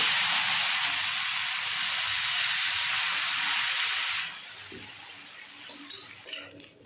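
Rava dosa batter hisses and sizzles loudly and steadily on a hot dosa griddle, then the sizzle drops to a quieter crackle with a few faint clinks.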